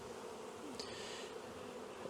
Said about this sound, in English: I'll have to try to brush all of the bees off so I can collect them.